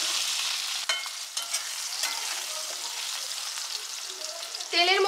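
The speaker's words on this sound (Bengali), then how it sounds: "তেলের মধ্যে আলুটাকে হালকা ভেজে নিয়ে" Potatoes frying in oil in a pan, a continuous close hissing sizzle punctuated by several scraping stirs and a louder burst near the end.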